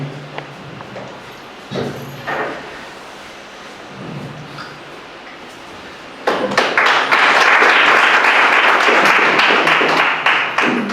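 Audience applause welcoming a guest at a Deepawali celebration, starting after about six seconds as a loud, sustained burst of many hands clapping, following a quieter stretch of room noise with faint voices.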